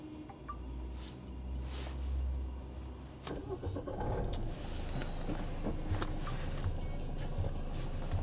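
A tired van's ignition is switched on and its engine cranks and catches, settling into a low steady idle, heard close from inside the cab with no talking.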